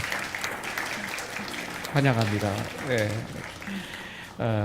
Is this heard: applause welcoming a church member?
yes